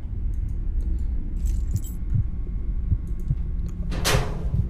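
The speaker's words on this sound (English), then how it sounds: "I just got some keys" Keys jangle as they are picked up in the dark horror game Buried Beneath, a short bright metallic jingle near the end over a low steady ambient hum, with faint clicks and thuds before it.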